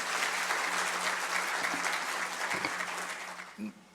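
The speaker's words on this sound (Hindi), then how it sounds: "एक बार तालियों से उनका अभिनंदन।" A seated audience at a school alumni association felicitation ceremony gives sustained applause that fades toward the end, with a few isolated claps standing out.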